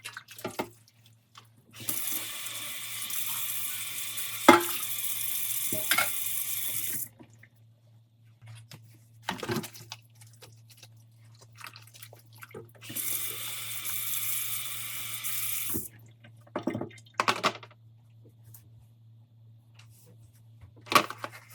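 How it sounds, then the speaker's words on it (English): Pans are washed and scrubbed in a home kitchen sink with Dawn Power Wash, a tap running in two long steady bursts between quieter clinks, splashes and scrubbing. "Some needed to sit for a little bit, others I could just go ahead and scrub it right away."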